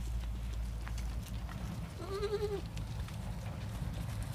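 Goats bleat on a goat farm with a spacious fenced yard, one clear wavering bleat rising briefly in the middle over steady low background noise.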